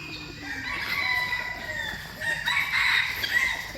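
Chickens cluck and a rooster crows nearby at a zoo, with overlapping bird calls rising and falling over a steady background hum.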